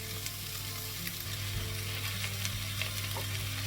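A pan of beef cheeks sizzles steadily, the frying close and constant with faint crackles over a low hum. There is no talking.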